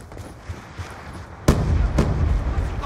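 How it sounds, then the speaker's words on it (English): Gunfire in a shooter video game, two sharp loud shots about half a second apart after quieter muffled background rumble. "I just shot like 100 more bullets without even"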